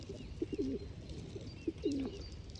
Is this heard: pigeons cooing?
yes